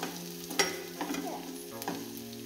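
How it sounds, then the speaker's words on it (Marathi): Onion frying in a pan for gobi manchurian, a moderate sizzle with several spatula scrapes and taps against the pan, fairly quiet and close. "आणि हे कांदा भाजून भाजत येतोय आपला."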